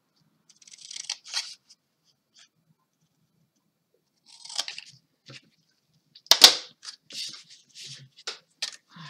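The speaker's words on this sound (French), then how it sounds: "les ciseaux." Scissors snip in short bursts of crisp clicks, with quiet pauses between, close by and without speech.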